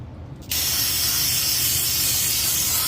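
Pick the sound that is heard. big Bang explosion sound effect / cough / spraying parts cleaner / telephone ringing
spraying parts cleaner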